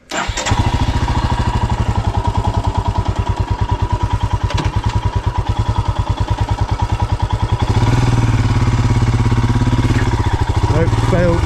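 A Royal Enfield Himalayan 411 single-cylinder motorcycle on a Devon trail starts and thumps loudly close by in a steady chugging beat, then revs harder as it tries to climb a hedge.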